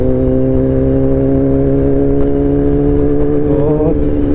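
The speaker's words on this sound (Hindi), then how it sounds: "थोड़ा सा रेव करके देखेंगे बाइक की पावर" A Kawasaki ZX10R sport motorcycle with a 207 BHP engine idles loudly and close by, giving a steady, humming drone that lifts slightly toward the end, with no talking.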